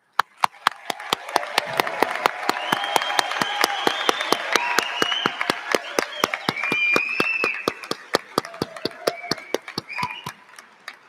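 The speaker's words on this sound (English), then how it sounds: "let's clap for the graduates" Guests clap for nursing graduates at a pinning ceremony: a swelling wash of applause with a few sharp, evenly repeated near claps on top, building over several seconds and tapering off at the end.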